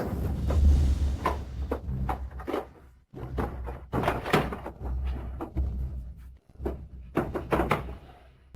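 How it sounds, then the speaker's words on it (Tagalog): A drawer is pulled open indoors with a series of loud wooden thumps, rattles and sliding knocks spread across several seconds, a couple of brief pauses breaking the clatter. "Yung tunog ng pagbubukas mo ng drawer, hindi ba pwedeng hinay-hinay lang?"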